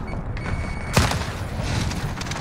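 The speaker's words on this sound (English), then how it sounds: "Allied cruise missile away." A cruise missile strike in Call of Duty Modern Warfare multiplayer lands as one sudden loud boom about a second in, followed by rumbling debris and scattered gunfire. A steady high whine runs beneath it before impact.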